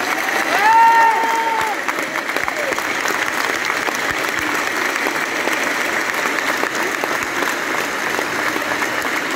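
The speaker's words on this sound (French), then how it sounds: "Je veux qu'on applaudisse très fort" A concert audience at the Dôme de Paris applauds for a show, a dense, steady wash of clapping that fills the whole stretch with a faint cheer near the start.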